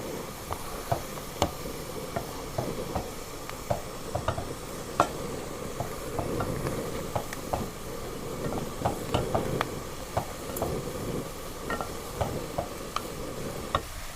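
Ingredients sautéing in oil for a Kerala-style fish pickle, a soft continuous sizzle broken by frequent scraping stirs and clicks of a spoon against the pan, no talking.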